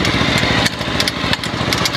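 A homemade car powered by a Honda CD70 motorcycle engine runs close by, its small single-cylinder motor chugging in a steady, fast putter with no pauses.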